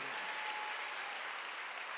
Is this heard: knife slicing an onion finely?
no